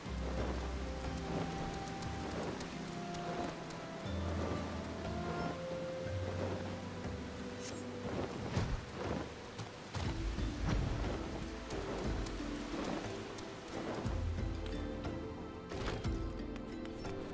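Steady rain with rumbling thunder in the Final Fantasy XIV online game world, a continuous wash of rainfall with low thunder swells beneath layered game music.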